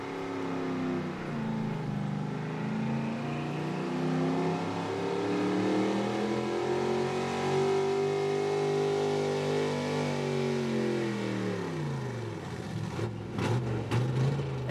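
A high output gas 4x4 pulling truck roars through a pull at Beast of the East, its engine revving hard and steady for the whole run, pitch sagging as it bogs down near the end.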